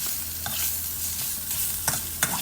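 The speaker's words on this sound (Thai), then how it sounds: "ผัผสมให้เข้ากันนะครับ ให้ขาหมูสุกในระดับหนึ่งนะฮะ" Pork leg sizzles steadily in a pan with Southern Thai curry paste as it is stir-fried, with a few sharp spatula scrapes cutting through the continuous frying hiss.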